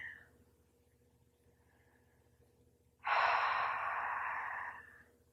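Deep breathing during a relaxing yoga pose: after a quiet stretch, one long, close, airy breath is drawn in and released steadily over about two seconds, with a faint low hum behind it.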